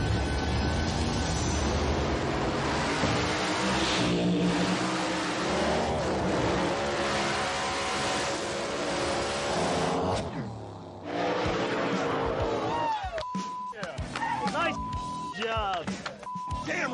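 A street outlaw drag race car roars at full throttle, loud and dense, then cuts off as the run ends, followed by clattering and whine-like tones.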